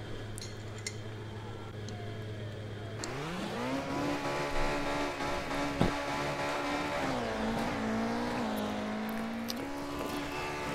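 Engine of a worn Fiat rally car in the video game Dirt, idling low, then revving up into a sustained steady drone with small pitch shifts as gears change, close and even, with a faint thump partway through.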